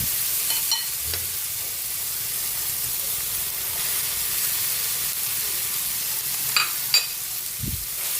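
Ground pork with tomatoes sizzles and hisses in a hot pan, with a steady frying hiss throughout, broken by a few scraping stirs and spatula knocks.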